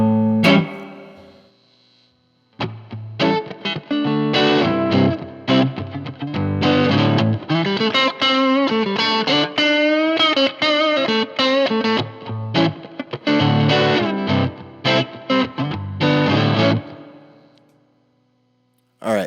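Electric guitar played through a Strat neck pickup with slightly dirty overdrive, a continuous run of solo phrases and bends at steady volume that fades out at the end.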